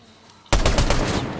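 Sudden burst of rapid automatic gunfire in the video game Fortnite, loud and close, erupting after a quiet moment and continuing in a dense stream of shots.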